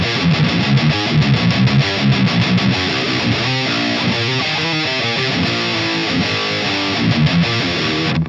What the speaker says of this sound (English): Kind of still sounds nasty, but the tube screamer kind of shifts it into a more usable area.